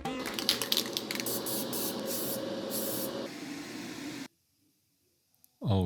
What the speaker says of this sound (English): if I sprayed a primer first, that might significantly cut down my painting time